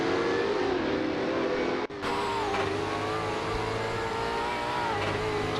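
V8 Supercars race cars lapping Oulton Park circuit, a continuous loud engine roar with shifting pitch, briefly cut off near the middle before resuming at full strength.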